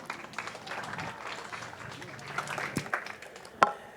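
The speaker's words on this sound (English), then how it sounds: "Round of applause for him." Scattered, moderately faint clapping from a small crowd at a Newark mural unveiling, greeting a councilman, with murmured voices underneath and one sharper clap near the end.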